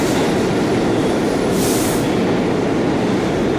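A New York City subway train rides at night in Harlem, a loud steady rumble of wheels on rails with a brief high squeal midway and no talking.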